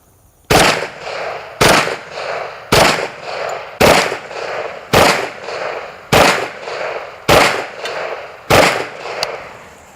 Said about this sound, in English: I think these double taps coming from the Kriss are going to be really devastating downrange